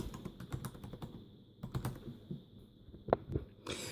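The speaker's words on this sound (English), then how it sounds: "I'm gonna type in my name" Typing on the keyboard of a Dell Inspiron 3800 laptop: a close, uneven run of plastic key clicks with short pauses, one sharper keystroke near the end, no voices.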